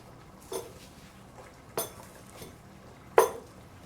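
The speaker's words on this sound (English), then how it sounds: "I just put the heat down so that I can crush the herbs that I need to crush" A small pestle crushing herbs in a mortar gives three separate knocks, the last one the loudest, with faint scraping between them and no voice.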